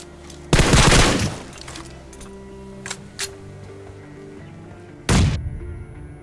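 Grenade blasts and gunfire sound in a mobile battle royale shooter match: one heavy, close explosion rumbles for nearly a second, then sparse shots crack, and a second loud burst follows near the end.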